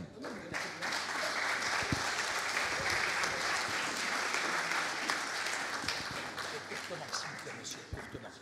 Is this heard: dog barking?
no